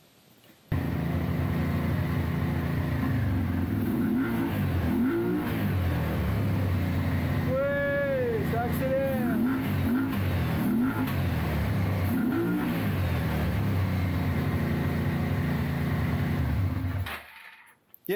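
A Suzuki SV650S motorcycle engine, its carburettors freeing up, revs repeatedly, the throttle blipped up and down in a rhythmic series of loud, close rises and falls over a steady idle for about sixteen seconds before cutting off.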